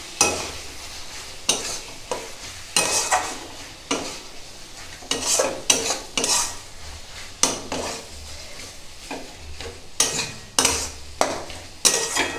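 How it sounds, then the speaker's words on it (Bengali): Onion and tomato frying in a pan as a spatula stirs them, a continuous sizzle broken by repeated sharp scraping strokes and knocks against the pan at an uneven rhythm. "পেঁয়াজটা আর একটু ভালো করে ভাজতে হবে।"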